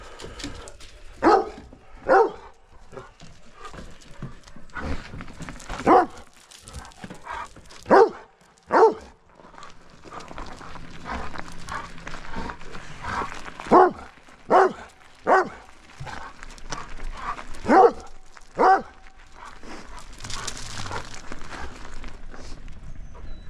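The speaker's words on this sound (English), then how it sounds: "No, you don't have to bark." A dog barks repeatedly during a car ride, sharp excited barks coming in irregular bursts over the steady hum of the moving vehicle, with a few whimpers between.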